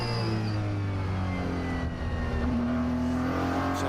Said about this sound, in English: on board now with 2 Ferraris side by side.